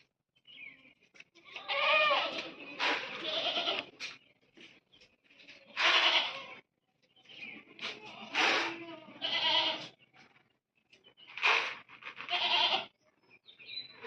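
Goats bleat repeatedly in a farm setting, several loud, wavering calls spaced a second or two apart, close by with quiet gaps between them.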